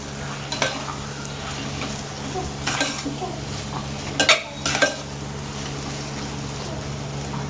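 Chopped boiled eggs being stirred into an egg pulao in a pan, with a low steady sizzle and several sharp scraping and clinking strokes of a spoon against the metal.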